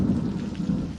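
Steady rain with a low rolling rumble of thunder, heard outdoors during a church vacation Bible school day, loud and continuous throughout with no voices.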